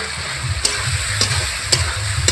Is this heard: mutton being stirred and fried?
yes